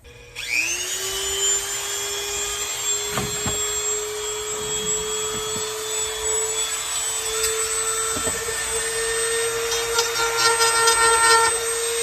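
A rotary power tool, more aggressive than a sander, spins up to a steady high whine while hollowing out a wooden birdhouse, with occasional scraping bites into the wood. It sounds close, with no talk.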